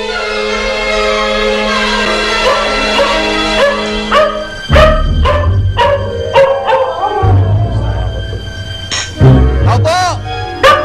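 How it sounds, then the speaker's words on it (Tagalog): Dog barking repeatedly in sharp, loud bursts across an indoor scene with background music, with a voice speaking at times among the barks. "Kahol ng kahol, bulyawan mo nga yung aso na yun!"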